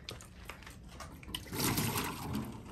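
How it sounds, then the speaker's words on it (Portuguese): Water leaking from a new bathroom's plumbing into a small bucket, soft trickling and scattered drips that swell into a fuller splashing flow in the second half, close and fairly quiet. "Tá vazando água, tá vendo?"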